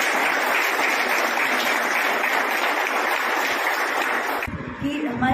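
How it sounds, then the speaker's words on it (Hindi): A packed auditorium audience gives loud, dense, sustained applause at a public function, the clapping continuing steadily before cutting off abruptly near the end as a voice begins. "जोरदार तालियों से इनका भी स्वागत करिए"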